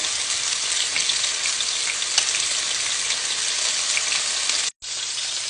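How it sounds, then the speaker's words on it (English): Cod fillet searing in a pan for a cod piccata, a steady close sizzle that holds evenly throughout before cutting out briefly near the end, with no voices. "And we're getting it just to a slight sear."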